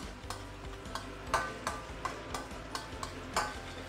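Fresh spices sautéing in a pan for asam pedas, a spicy tamarind seafood stew: quiet, evenly spaced spatula taps and scrapes tick along steadily over a low, soft sizzle.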